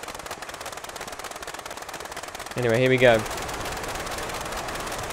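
Blériot XI aircraft engine in Microsoft Flight Simulator, a steady rapid staccato rattle of firing cylinders droning on throughout, briefly overlaid by someone talking.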